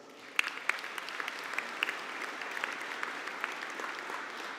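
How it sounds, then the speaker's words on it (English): Sustained applause from a crowd at a graduation conferring ceremony, honouring the Higher Certificate in Business class; steady clapping throughout with a few sharper, closer claps standing out. "can we have a collective round of applause for the Higher Certificate in Business class?"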